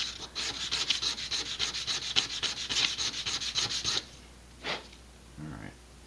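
Rapid rhythmic sanding strokes on the wood of a vintage Estes Sentinel model rocket for about four seconds, fairly close and steady, then a couple of isolated scraping sounds, with no voices.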